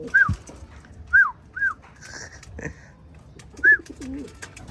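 Black velvet racing pigeons calling outdoors in a loft area: a few short rising coos and chirps spaced apart, with a faint dog whimper and light background noise.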